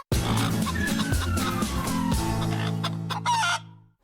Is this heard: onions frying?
no